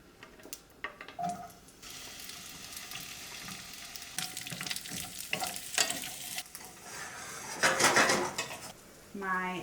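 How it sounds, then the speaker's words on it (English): Cubed butternut squash sautés in a pan, a bright sizzle broken by repeated clatter and scraping of a utensil against the pan, close and fairly loud. "First I'm gonna saute just the squash."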